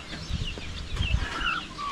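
A mother hen on a farm clucking in short, soft bursts, close by, with other low farmyard rustling and faint bird sounds around it.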